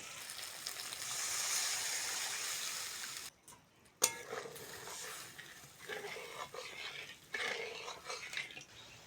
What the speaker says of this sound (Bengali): মশলা কষে নিয়েছি এবার দেবো জল